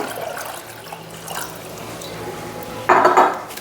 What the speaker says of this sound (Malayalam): ഒരു പാത്രത്തിലേക്ക് കുറേയധികം വെള്ളം ഒഴിക്കുക